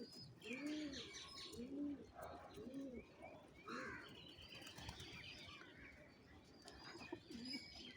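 Domestic pigeons released from their cleaned coop, with repeated low cooing calls in a steady rhythm, flapping wings and scattered chirps from nearby birds, close and moderately loud, with faint voices in the background.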